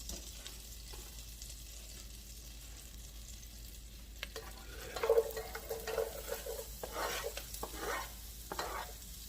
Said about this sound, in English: now I got the butter melted down. I'm going to add onions to it.